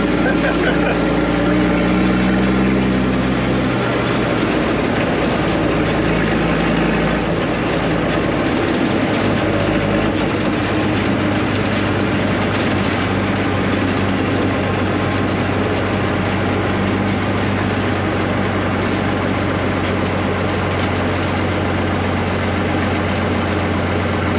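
A 14,000-pound manual-steering truck's diesel engine rumbles loud and steady close by, a deep continuous idle with a heavy low drone throughout.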